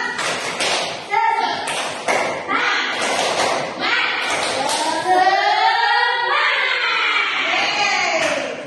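Students in a university economics education class do a spirit clap, loud claps in rhythmic bursts that rise to group voices shouting and chanting together.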